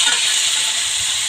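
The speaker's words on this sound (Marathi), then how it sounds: "ह्याच्यामध्ये टोमॅटो ॲड करायचा आहे. टोमॅटोही चांगला भाजून घ्यायचा आहे." Tomatoes frying with browned onions in a pan, a steady close sizzle and hiss that runs unbroken for the whole stretch.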